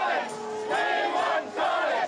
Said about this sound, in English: the chants fell on deaf ears